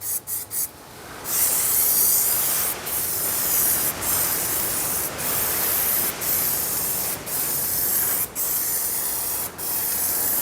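Bursts of aerosol spray paint hiss steadily and close as a light coat goes onto a Jaguar XKR prop shaft, broken by short pauses between passes after a few quick rattling sprays at the start.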